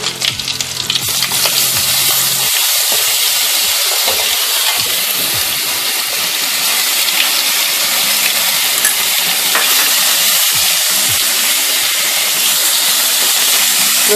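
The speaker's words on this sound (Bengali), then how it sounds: "এবার প্রথমে আমি রসুন বাটাটা দিয়ে দিলাম।" Garlic paste fries in oil already spiced with cardamom, cloves and bay leaf for a Bengali-style prawn curry: a loud, continuous close sizzle with intermittent stirring scrapes, steady for several seconds, with no talk.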